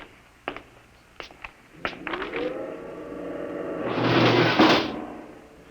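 An old door in a dark silo creaks open with a few knocks and a latch clatter, followed by a long, rising, groaning swing that peaks near the end, heard close in a quiet space.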